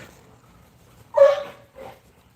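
A Presa Canario dog gives a sharp yelping bark followed by a shorter, softer whimpering yelp, both close by in an otherwise quiet space.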